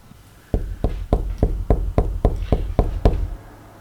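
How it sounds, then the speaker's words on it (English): Ten firm knocks on a door at night land in an even, steady rhythm, loud and close, with no voices around them. "Who's knocking?"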